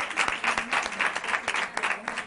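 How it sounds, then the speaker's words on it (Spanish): An audience applauds three speakers at a talk, a short, dense burst of clapping from a crowd in a hall, steady and fairly close. "un aplauso para los tres ponentes."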